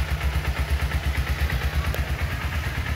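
A motorcycle with a sealed, never-opened engine idles smoothly and steadily close by, its low, even pulsing running without a break and with no voices over it.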